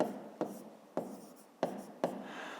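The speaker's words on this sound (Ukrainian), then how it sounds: "Пишемо так." Close pen strokes scratch across paper in four or five quick, regular bursts, each starting sharply and trailing off, with no voices.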